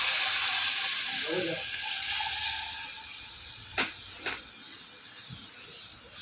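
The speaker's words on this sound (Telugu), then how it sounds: "ఇప్పుడు మనం అంతా రెడీ చేసుకున్న ఈ పులుసుని అందులో వేసేయాలండి" Tamarind broth poured into a hot tempering of dried red chillies and curry leaves for a lentil-free sambar gives a steady, close sizzling hiss, with two sharp splashes near the end and a brief voice early on.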